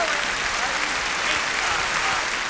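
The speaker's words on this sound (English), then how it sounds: "Let's give the sock puppet a nice round of applause." A studio audience claps steadily for a sock puppet on a children's show, a dense, even round of applause that carries through without a break.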